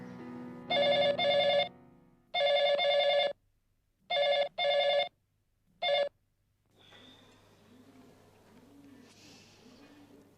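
A telephone rings in several short electronic bursts with pauses between them, then falls silent, leaving a quiet room with soft background noise.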